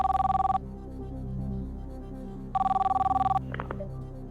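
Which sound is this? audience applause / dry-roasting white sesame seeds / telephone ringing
telephone ringing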